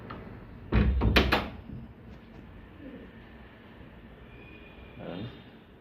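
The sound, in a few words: knocking on a door and the door opening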